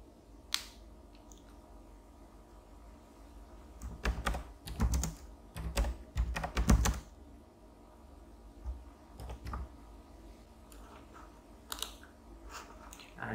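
Typing on a computer keyboard while writing an app description, clusters of quick key clicks in short bursts separated by pauses, close and fairly quiet with no talking.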